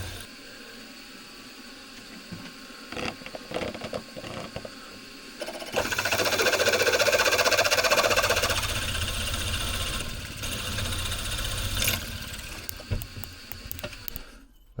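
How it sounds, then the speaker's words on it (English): A drill grinds a deep 32mm hole through a stack of eight 4mm steel plates for a heavy-duty boat rudder. A low mechanical hum rises into a louder, harsher cutting noise midway, then settles back with intermittent clunks. "now I'm just going to go right down through the lot. So it's quite a deep hole this."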